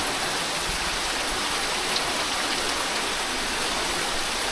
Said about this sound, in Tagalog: Medyo malakas yung doon ulan